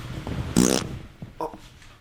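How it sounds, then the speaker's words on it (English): A short, close fart with a buzzy, rippling tone lasts about a quarter second, followed a moment later by a fainter second puff over quiet room noise. "Did you just fart?"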